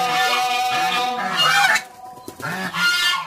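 Several geese honk and cackle loudly at close range in a farmyard where they are laying eggs, with harsh overlapping calls in two bursts separated by a short pause.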